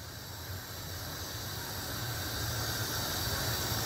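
Minced meat sizzles in a little oil at the bottom of a pan while cooking a Turkish zucchini oturtma dish, a steady, soft, hissing fry that swells slightly and carries on alone without talk.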